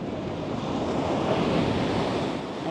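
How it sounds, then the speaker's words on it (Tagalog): Strong ocean waves crash and rush steadily onto a Florida beach, a loud continuous roar of surf with wind buffeting the microphone and no voices. "Sana yung malakas na alon."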